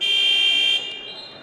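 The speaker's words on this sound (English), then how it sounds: "First buzzer there." Basketball game buzzer in a boys' varsity high school gym, a single loud electronic tone sounding steadily for under a second before cutting off, leaving quieter room noise.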